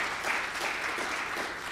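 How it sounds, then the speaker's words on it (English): Conference audience applauding, a steady dense clapping that fills the whole moment evenly without voices. "Yeah, round of applause for the Wi-Fi."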